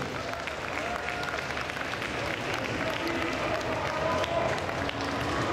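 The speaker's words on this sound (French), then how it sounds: "Un tonnerre d'applaudissements pour eux, s'il vous plaît." Audience applause at a game conference, a continuous wash of many hands clapping heard at a moderate distance with crowd murmur mixed in, steady throughout.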